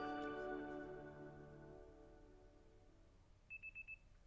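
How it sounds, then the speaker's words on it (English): In the Pokémon Legends: Z-A video game, an alarm rings as four quick, evenly spaced electronic beeps near the end, coming in after a fading musical tone; fairly faint and without speech. "The next day, your alarm's going off."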